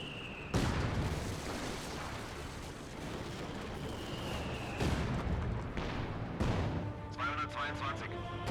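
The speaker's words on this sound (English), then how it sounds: "So Pack Howitzer will find some hits upon the MG42 team." Pack howitzer artillery in Company of Heroes 2 lets off several heavy booming shots with long rumbling tails, loud and close, under a commentator's continuous speech.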